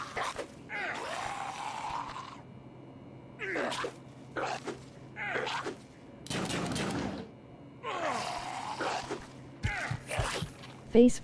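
Gunfire in the game Fallout Shelter, several bursts of shots spread across the scene with gaps between them, mixed with game sounds and voice-like noises, at moderate level.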